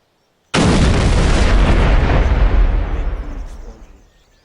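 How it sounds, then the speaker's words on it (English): A big wildfire bomb detonates in Garry's Mod, a sudden, very loud booming blast that roars at full strength, then rumbles and crackles as it slowly fades over several seconds, with no voices. "Big explosion."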